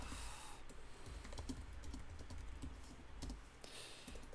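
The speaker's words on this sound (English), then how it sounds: "I'm typing on a smaller keyboard than I'm used to" Typing on a small computer keyboard, a quiet, steady run of rapid key clicks with short pauses.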